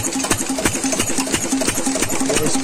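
Clutch-started engine driving a groundwater pump, with a water-cooled build and an attached silencer, chugging in a rapid, even rhythm of regular knocks at close range, steady and unbroken, with no voices.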